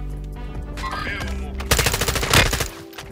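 Rapid automatic gunfire from a Fennec submachine gun in Warzone 2, a burst of sharp close shots in the second half over steady game background noise, with speech faintly underneath.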